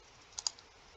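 A computer mouse clicked during an online maths exercise on systems of inequalities, two quick faint clicks close together against a quiet background.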